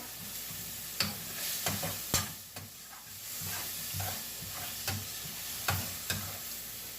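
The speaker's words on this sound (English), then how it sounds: "Saute these onions." Chopped onions sauté in a pan with soft sizzling, broken by sharp clacks and scrapes of a utensil stirring at irregular intervals, close and moderately loud.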